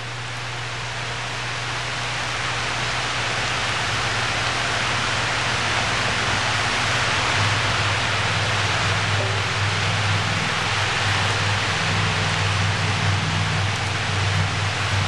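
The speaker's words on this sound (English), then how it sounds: "What a nice rainy day." Steady, dense rain pours down continuously, a broad hiss with a faint low hum beneath it and no voices.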